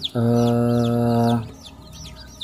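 A loud, close, drawn-out village chicken hen call lasting over a second, followed by chirping of small birds or chicks in the background.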